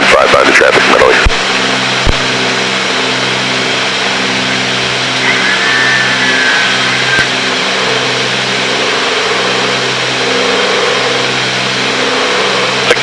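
Inside a Cessna 310 twin-engine aircraft in flight, a loud, steady, droning engine hum with layered harmonic tones continues throughout, and a brief radio click and crackle sounds at the start.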